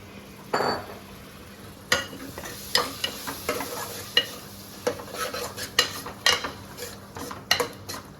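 Fresh prawns are stirred into biryani masala in a pan, a spoon scraping and clinking in repeated close strokes over a steady sizzle, with no voices.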